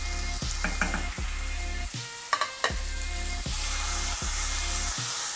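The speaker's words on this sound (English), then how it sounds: "And we need to fry them off," Beef chunks and their juices fry in a pan over medium heat for a Sri Lankan pepper beef curry, giving a steady sizzle with a repeating low pulse and a few sharp scrapes from stirring.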